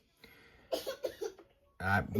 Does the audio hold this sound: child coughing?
yes